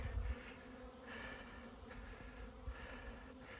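Honeybees buzzing in front of their hives on a snowy mountain day in winter, a steady dense drone of many insects, fairly close, with no talk.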